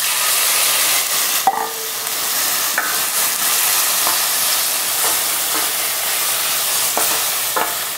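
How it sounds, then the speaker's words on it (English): Onion, celery, mushrooms, garlic and parsley sauté in a pan with a steady, close hiss. A few light scrapes and clicks from a spoon stirring break through the sizzle, with no voices. "we're gonna go ahead and saute this onion, celery, mushrooms, a little bit of garlic,"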